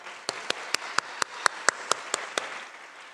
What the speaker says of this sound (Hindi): एक बार फिर से तालियां